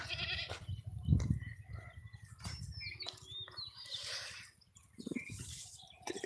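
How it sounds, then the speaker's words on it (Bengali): Goats bleat several times nearby, with a short, loud bleat early on and scattered rustling and movement around them. "এই যে ছাগল ছাগল ছানা লাফিয়ে বেড়ায়"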